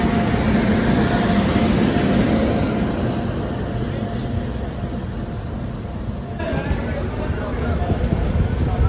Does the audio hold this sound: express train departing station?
yes